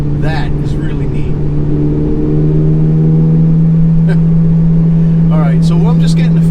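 A Chevrolet Corvette C8 Z06 cruises with a steady, loud engine drone and a slight rise in pitch, while someone talks over it.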